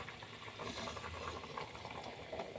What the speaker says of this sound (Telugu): మన టమాటా పులుసు అయితే మరుగుతుంది మంచిగా